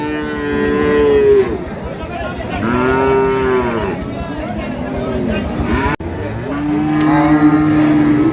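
Sahiwal bulls at a cattle market in Dinajpur moo loudly and repeatedly, long drawn-out lowing calls up close over a steady crowd murmur, with people talking in the background.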